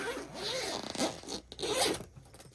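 A zipper on a bag being pulled open in a few quick, close-up rasping strokes, with brief pauses between them.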